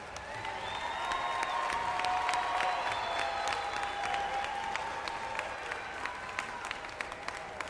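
A high school graduation audience gives sustained applause for the school band, dense and steady clapping from a large crowd filling the hall at moderate distance.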